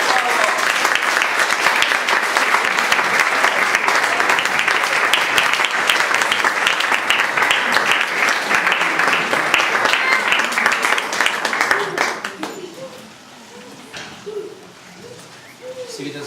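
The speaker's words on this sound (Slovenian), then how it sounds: "aplavz za vse" Audience applauding children at a charity concert in Malograjski dvor, dense sustained clapping for about twelve seconds before it abruptly fades to quieter room sound with scattered voices.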